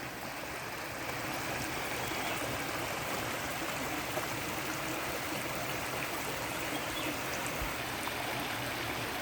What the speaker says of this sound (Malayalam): സ്ഥലത്തിൻ്റെ ഒരു സൈഡിൽ കൂടെ തോട് കേട്ടോ ഇത് വറ്റാത്ത വെള്ളമാണ്